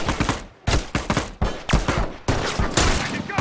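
Rapid gunfire from a multiplayer match of The Last of Us Factions: a loud, close burst of repeated shots in an uneven rhythm with no talk over it.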